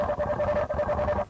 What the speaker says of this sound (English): You may also hear the swarm communicate